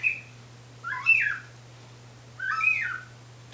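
A hand-blown bird call lure mimicking a blackbird gives two short whistled phrases, close and clear, separated by a pause over a faint steady low hum.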